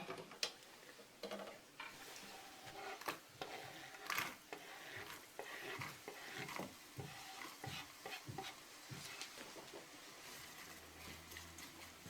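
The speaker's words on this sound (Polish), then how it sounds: "cebulę będę na tym maśle smażyła do zeszklenia." Chopped onion fries in melted butter in a small saucepan: a quiet, soft sizzle broken up by scattered clicks and scrapes of a utensil stirring against the pan, heard close.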